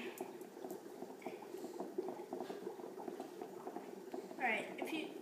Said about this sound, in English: the dry ice turns into gas instantly